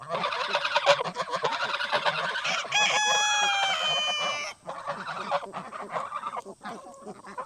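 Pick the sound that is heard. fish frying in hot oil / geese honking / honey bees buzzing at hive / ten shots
geese honking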